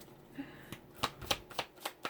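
Tarot cards, sticking in the heat, are riffled and shuffled in a series of quick, crisp bursts, close up and fairly quiet.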